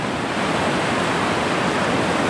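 Ocean waves wash onto the beach at Galveston, Texas, a loud, steady broadband surf roar with no distinct breaks and no talk.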